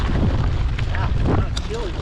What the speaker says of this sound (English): here's that west wind